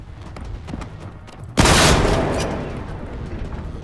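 A shotgun fires once in the video game Generation Zero. The single loud, booming blast bursts in suddenly after quieter background sounds, then fades out slowly.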